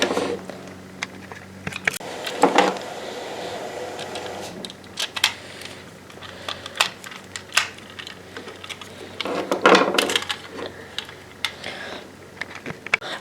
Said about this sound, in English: I also replaced the screws that I removed earlier by just screwing them into position